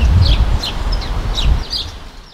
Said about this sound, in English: I can hear the birds singing